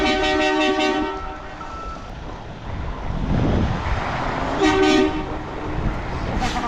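A truck air horn blasts at a concrete pour site, two long loud honks with harmonic tones separated by a rumbling engine and site noise, the second blast briefer.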